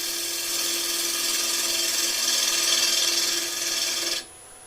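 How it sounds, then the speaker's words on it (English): Steady raspy scraping as a bowl gouge is brushed along spinning wood on a lathe, one continuous close cut that stops abruptly just before the end, leaving a faint motor whine. "So the tool's in the side, and I'm just brushing that along again."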